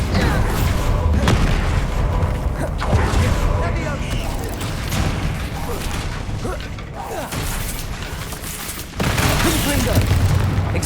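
Repeated spell blasts boom and crash in a Harry Potter video game as a Bombarda spell explodes during a fight with a troll, dense and loud throughout amid whooshes, with shouted voices in the mix.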